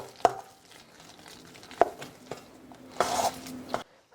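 Peanut butter cookie dough is stirred in a bowl with a few sharp knocks of the utensil against the side and a brief scraping burst near the end, quiet and close.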